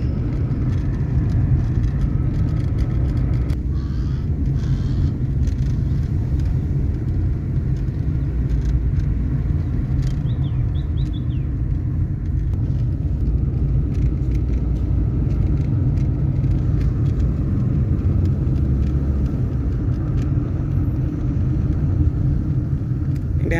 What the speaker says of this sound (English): right now I'm at about 2000 RPM on the hill, and the car is picking up